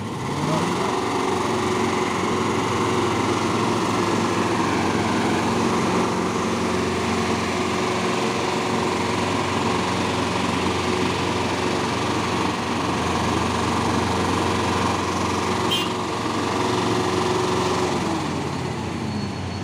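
Hino trailer truck engine labouring on an uphill climb at Bukit Korok, a steady loud diesel drone with a constant hum that holds unbroken throughout.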